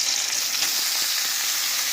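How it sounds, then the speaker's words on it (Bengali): Snake gourd (chichinga) frying in a pan with ripe red chillies, a steady close sizzle broken by soft scrapes of stirring, with no voices. "এবার আমরা একটু খুব ভালো করে এটাকে ভাজা করব, নাড়াচাড়া করে করে"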